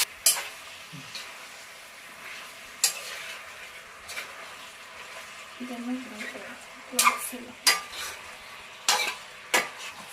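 Chili chicken masala fried in a pan, with intermittent sharp clinks and scrapes of a spatula stirring over a faint sizzle, and a brief low voice partway through.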